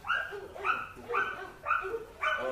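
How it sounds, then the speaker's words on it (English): Dogs bark in a steady series of five sharp, evenly spaced barks. They are fairly close and loud, with no talk over them. "The dogs are barking."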